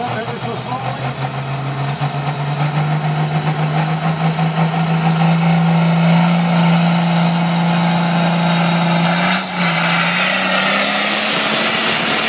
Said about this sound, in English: Rev it up ever so slowly.